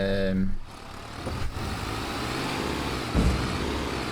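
A low, steady Ford tractor engine rumble in Farming Simulator 25 drones throughout, growing loud while working an implement, with a brief thump partway through and no voices.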